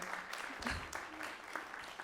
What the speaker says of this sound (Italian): Un applauso naturalmente doveroso